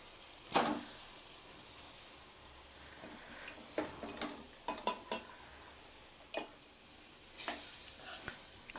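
A spoon stirs cooked rice into tomato masala paste in a pan, giving a series of irregular scraping clinks and taps against the metal, close and fairly quiet, with no talking.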